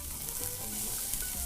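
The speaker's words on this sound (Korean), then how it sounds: "당근은 오래 볶는 거 아니에요." Carrots sizzle and crackle as they are stir-fried in a hot pan, a dense, steady frying hiss with soft scraping from the stirring, close by and without speech.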